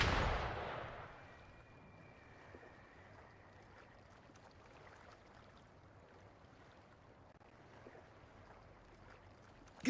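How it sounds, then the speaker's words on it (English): A single loud gunshot-like blast opens, followed by a long, faint rumbling tail and quiet ambience in a Wuthering Waves game scene. "Gunfire! We've got intruders."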